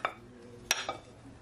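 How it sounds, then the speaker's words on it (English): Spoon or utensil stirring Jamaican curry chicken wings in a pot, a couple of sharp clinks against the pot and a brief scrape over low kitchen background. "I'm just gonna give it a stir"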